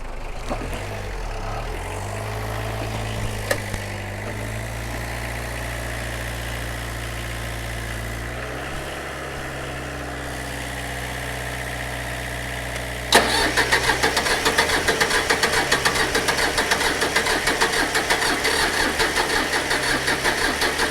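An Iseki tractor engine turns over with a steady low drone for about thirteen seconds, then catches and runs with a louder, rougher, rapidly pulsing rumble up close.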